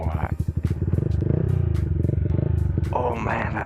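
A Yamaha MT-125 motorcycle fitted with ABS and an aftermarket exhaust on a test ride, its engine pulsing in a fast, throbbing rhythm loud and near, while a rider's voice talks over it.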